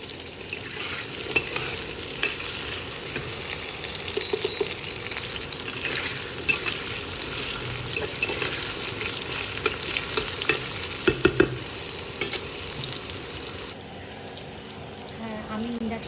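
Potatoes and cumin fry in hot oil on an induction cooktop, giving a steady close sizzle with scattered scraping stir strokes and a few sharper clatters near the end.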